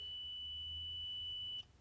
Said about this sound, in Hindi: बीप तो ये दे रहा है पर रीडिंग से नहीं है।